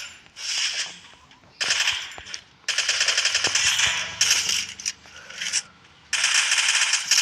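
Bursts of rapid automatic gunfire in a battle royale video game, loud and close, several long sustained volleys separated by short pauses.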